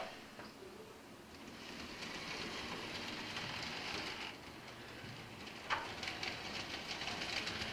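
Two Pennsylvania model railroad locomotives running on a layout during an operating session, giving a steady, close rumbling hiss of wheels and motors on track that carries on throughout with a few faint clicks.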